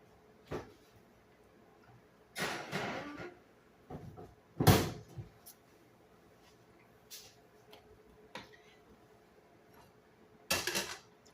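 A casserole dish going into a 350-degree oven, with a few separate clunks and knocks of the oven door and rack and dish set down, spaced apart in a quiet kitchen.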